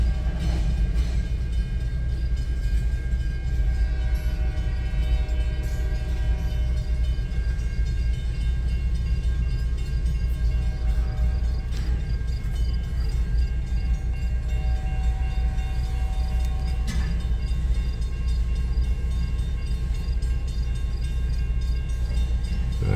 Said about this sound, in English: I seen this train up the road a ways. Now it's gonna be nothing but lumber.